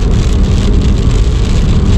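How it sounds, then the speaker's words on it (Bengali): Heavy rain drums steadily on a car roof and windshield, a dense, loud, continuous roar of droplets with no voices. "এখানে প্রচুর বৃষ্টি হচ্ছে"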